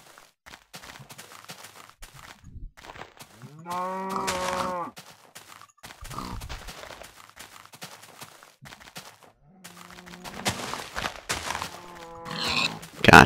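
Minecraft cow moos twice, a brief moo early and a longer one later, amid sparse game clicks, hits and footsteps, moderately close.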